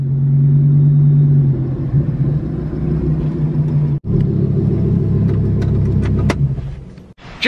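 A Lamborghini rolls up to a shop and comes to a stop, a steady, loud engine rumble that holds, briefly dips, and then fades to quiet near the end.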